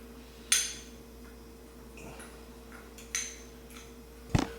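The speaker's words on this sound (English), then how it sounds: "I'm just going to grab a fork and I'm going to mix this all together." A metal fork scrapes and clinks against a bowl while homemade Louisiana dry rub spices for chicken wings are stirred together, a few separate sharp taps and scrapes in a quiet kitchen.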